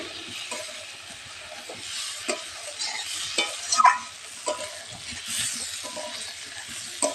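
Gobindobhog rice being stirred in a pan, repeated dry scraping strokes of a spoon against the metal at an uneven rhythm over a faint sizzle, close and clear.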